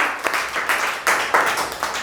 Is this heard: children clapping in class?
yes